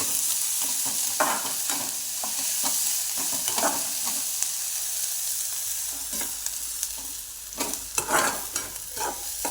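Chopped onions sizzle and fry in a pan for matki bhaji, stirred repeatedly with scraping strokes over a constant close crackle, with no talking.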